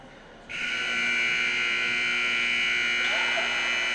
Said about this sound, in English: they go ahead and sound the buzzer to get My Edge to come back out